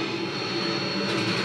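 A Harrier jet in the Modern Warfare 2 video game gives off a loud, steady engine roar that fills the moment without a break.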